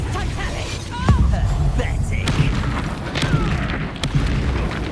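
Expulso blasting spell in the Hogwarts Legacy video game, dull booming blasts and thuds amid dense game combat noise, with voices calling out over the action.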